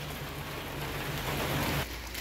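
Water of a stream flowing past in the rain in natural countryside near Thakhek, Khammouane, Laos, heard as a steady broadband wash with a low hum, constant and fairly loud throughout.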